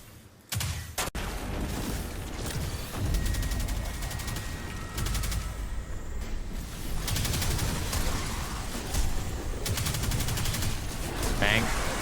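Game gunfire from Destiny 2, dense and continuous bursts of shots filling the whole stretch, loud and close, with a few sharper cracks standing out.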